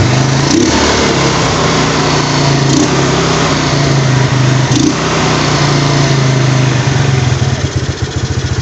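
A Yamaha Mio Sporty scooter engine fitted with a Powermax CDI runs steadily close by, a loud, buzzy continuous drone with a few brief rev surges and slight fluttering toward the end.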